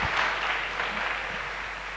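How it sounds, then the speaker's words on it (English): A panel discussion audience applauds the panelists with dense, continuous clapping that forms a steady wash of noise. It holds at an even level, with a faint low hum underneath. "A huge round of applause for all our panelists."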